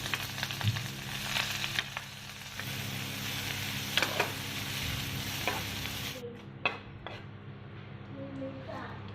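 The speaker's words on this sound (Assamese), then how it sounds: "এতিয়া কাটি লোৱা পিঁয়াজখিনি মই দি দিছোঁ।" Chopped onions frying in hot oil in a wok over a gas flame, a steady sizzle with intermittent spoon stirring and scraping clatters, moderately close and without talk.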